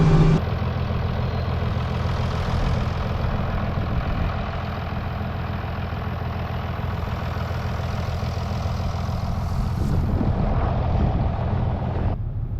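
A farm tractor's engine drones steadily and loudly on the way out to a hay field for baling, a continuous low rumble that holds even for about twelve seconds before cutting off near the end, with no talk.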